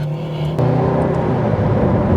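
A 2008 Ferrari 430 Scuderia engine hums low and steady at low speed, with a deeper, louder rumble kicking in partway through, close and continuous.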